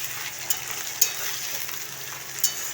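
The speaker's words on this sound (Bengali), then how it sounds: "কাঁচা বাদামটা দিয়ে ভালো করে এটাকে ভেজে নিতে হবে, লাল লাল করে একটু ভালো করে ভাজা ভাজা করে নিতে হবে।" Soaked raw peanuts frying in a pan, a soft steady crackling sizzle with a few sharp pops and spatula taps scattered through it, close and moderately quiet.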